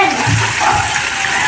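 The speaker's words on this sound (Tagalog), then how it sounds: "Ito nga yung manok na sineperate ko kahapon at prito nga ang gagawin ko dito" Steady, bright sizzling of chicken frying in a hot pan, a continuous crackling hiss with a faint low rumble underneath.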